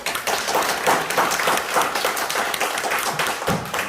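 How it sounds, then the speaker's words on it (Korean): Seminar audience in a Red Cross hall in Busan breaks into sustained applause, a loud, even roar of many hands clapping close by with no talk. "박수로"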